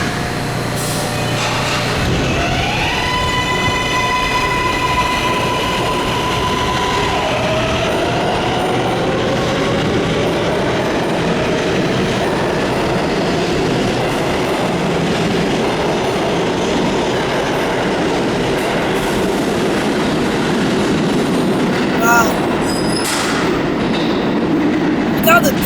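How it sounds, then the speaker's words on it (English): New York subway Z train departing Fulton Street, a loud, close, sustained rumble of wheels on track with rising motor tones and squealing, while people talk over it. "Okay, so the Z train has departed Fulton Street."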